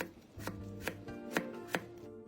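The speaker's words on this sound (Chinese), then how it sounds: "切点脆瓜摆盘。" A knife chops crunchy cucumber on a cutting board, four crisp, evenly spaced chops standing out clearly over a soft low background.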